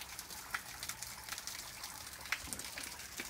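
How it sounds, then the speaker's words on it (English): Water running from a pump-fed waterfall in the desert of central Arizona, a steady soft rushing wash with faint splashes, heard alone at moderate distance. "it is such a nice soothing sound to hear water running in the desert"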